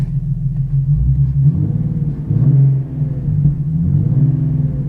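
Car engine idling steadily in drive after the shift from reverse, at a vehicle auction yard; a low, continuous rumble with slight rises and dips, close and fairly loud.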